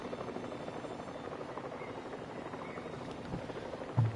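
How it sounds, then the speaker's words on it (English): Steady rotor drone of a helicopter airlifting a Gallimimus in the video game Jurassic World Evolution 3, a continuous broadband whir at moderate level with a low thump near the end. "one Gallimimus is getting picked up by the helicopters"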